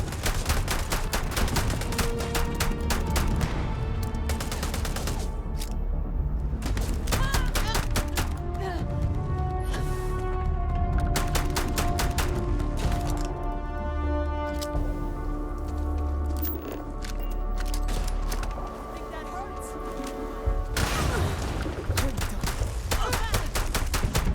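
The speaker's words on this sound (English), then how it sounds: "Just shoot everything!" Gunfire in the video game Starfield, loud rapid bursts and volleys of shots over a dense, tonal game soundtrack, with brief lulls and a voice speaking now and then.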